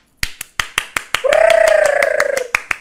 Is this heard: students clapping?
yes